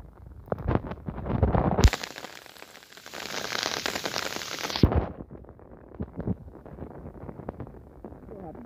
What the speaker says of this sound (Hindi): आपको दिखाते हैं बारिश की मंजर।